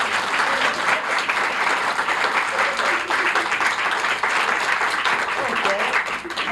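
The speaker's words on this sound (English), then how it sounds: "let's give him a big hand for being so good." A theatre crowd at a magic show breaks into loud, sustained applause after a trick with a rolled-up $50 bill, steady dense clapping filling the whole stretch with some voices mixed in.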